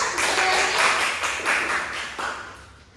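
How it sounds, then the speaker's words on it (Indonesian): A small group in a classroom claps together in a short burst of rhythmic, fairly close claps that fade out within a few seconds. "Semuanya beri tepuk tangan dulu."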